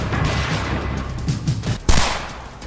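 Gunfire sound effect for two attackers on a motorbike opening fire outside a bar: a rough, crackling spray of shots with one sharp, loud bang near the end.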